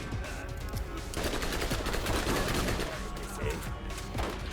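Rapid shotgun and gunfire blasts in the Borderlands video game, dense overlapping bursts over a busy game soundtrack throughout, with a voice briefly audible.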